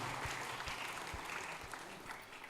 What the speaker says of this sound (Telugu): ప్రేమపూర్వకంగా గట్టిగా చప్పట్లు కొడుతూ వారిని సాదరంగా మన మధ్యకు ఆహ్వానిస్తూ ఉన్నాం.